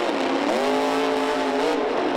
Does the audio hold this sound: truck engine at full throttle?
yes